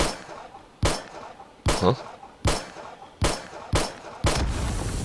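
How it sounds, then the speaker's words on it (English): Gunshots hitting oil barrels in the video game 7 Days to Die, six loud, sharp blasts with metallic clangs spaced about a second apart, each followed by a brief rumbling tail; a single short word is spoken. "I think you can use these oil barrels if you shoot them"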